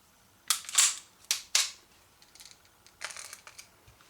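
A Sig Sauer P229 pistol is handled up close during an empty safety check, giving several sharp metallic clacks from the slide and magazine, then softer rattling clicks.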